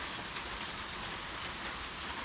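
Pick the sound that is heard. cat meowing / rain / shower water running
rain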